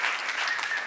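A brief burst of dense audience applause at a musical bingo show, steady and fairly loud throughout, with no speech.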